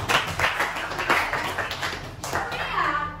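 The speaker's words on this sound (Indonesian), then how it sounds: "tepuk tangan untuk" Classroom clapping for the girls in a lesson, a short burst of hand claps from students mixed with children's voices and chatter nearby.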